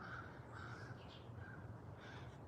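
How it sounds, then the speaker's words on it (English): A crow caws repeatedly outdoors near a river by cornfields, a few harsh calls spaced across a couple of seconds, moderately distant and faint against a steady background hiss. "Crow's having a good time out here."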